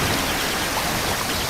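Water from a burst tank splashing over toy wooden railway engines, a brief, loud, continuous hiss of spraying and pouring water.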